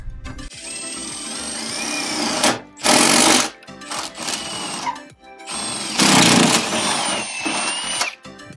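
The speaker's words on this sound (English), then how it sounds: "I got the drill and a half inch drill bit" A power drill with a half-inch bit bores through metal close by in bursts, its whine shifting in pitch under load, with louder grinding stretches and brief pauses between.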